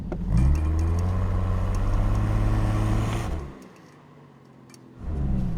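Aston Martin Vanquish, a British car, revving hard in a loud sustained engine roar for about three seconds, dropping away to near quiet and then picking up again at the end as it fails to do a burnout.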